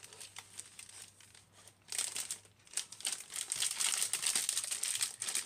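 A plastic shipping bag from an online haul order crinkles and tears open close by, its crackling and ripping building louder and denser in the second half with no talking.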